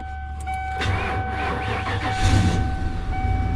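A Ford F350 with a 460 big-block engine, sitting unused for years, cranks briefly and then catches, rising into a loud, rough idle with a steady low rumble close by.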